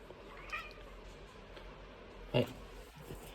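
A faint, short meow rises out of a quiet room, followed by a louder single cry a couple of seconds later.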